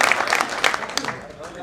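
Audience applause breaks out at a Hindi comic poetry gathering, a short burst of hand claps. An announcer's voice carries over the clapping, which fades after a second.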